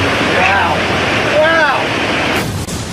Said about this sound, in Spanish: El río reacciona rápidamente. La velocidad del caudal está aumentando.